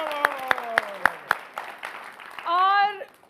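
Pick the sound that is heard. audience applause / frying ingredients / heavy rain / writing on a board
audience applause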